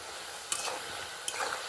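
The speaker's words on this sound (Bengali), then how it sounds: "সবগুলো তেলের মধ্যে ছেড়ে দিয়েছি। ছেড়ে দেওয়ার পর এইভাবে একটু নাড়াচাড়া করতে থাকতে হবে" Anarkali sweets frying in oil, a soft steady sizzle with two brief scrapes of stirring, short and fairly quiet.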